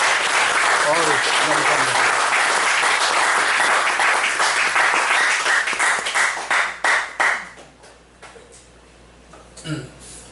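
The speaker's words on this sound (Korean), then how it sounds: "우리 격려의 박수 한번 하시죠." An audience at a Korean Christian gathering claps in encouragement, full applause that thins into scattered claps after about seven seconds, followed by a few last claps with a voice speaking.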